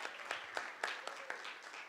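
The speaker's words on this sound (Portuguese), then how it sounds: "Queria pedir palmas para a Lucinha" Scattered hand claps from a small audience, sharp and irregular, moderately close, fading into light applause.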